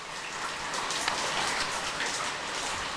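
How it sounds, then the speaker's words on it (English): Steady rain from Tropical Storm Andrea hisses down without a break, dense and fairly close, with faint droplet patter and a little wind mixed in and no voices. "you see the rain and there's a little bit of wind"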